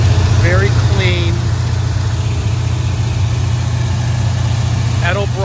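A 1978 Chevrolet Corvette with a Wheeler-built 350 engine idles with a steady low rumble throughout, heard close up, with a few brief higher squeaks over the engine.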